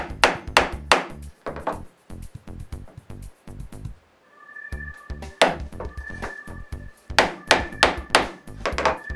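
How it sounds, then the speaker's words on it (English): A chisel resting on a square wood block is struck by a mallet to cut sockets in wooden drawer parts: sharp, loud, close knocks in quick runs of several blows, broken by a short pause and a faint ringing tone. "And I smack the chisel 3 or 4 times."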